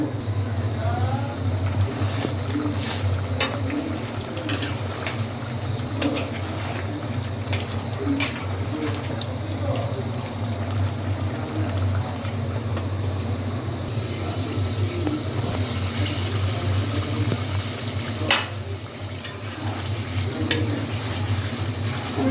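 Meat curry cooking in a pan under a lid, a continuous muffled sizzle and bubbling with occasional clinks, steady and close, with no speech.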